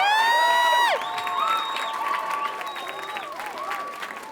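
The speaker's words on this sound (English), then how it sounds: "A round of applause." Audience applause with cheering at a CityLink student celebration, starting with a loud burst of whoops and high-pitched cheers, then settling into steady clapping with scattered shouts.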